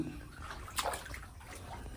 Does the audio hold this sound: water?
yes